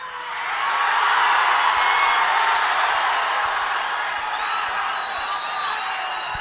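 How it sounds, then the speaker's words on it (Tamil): Audience applause and cheering for a film team at an event: a dense, loud wash of clapping with scattered whoops that rises quickly and holds steady throughout. "நன்றி உங்களோட அன்புக்கும் கரகோஷத்துக்கும்"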